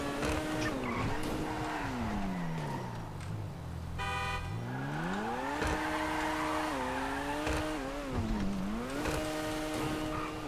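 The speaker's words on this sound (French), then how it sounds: "Par contre, drift de ouf" Video-game car drifting through long sweeping slides, the engine note rising and falling with a steady tire squeal, loud and continuous for the whole stretch, with a brief burst of a buzzy horn-like tone midway.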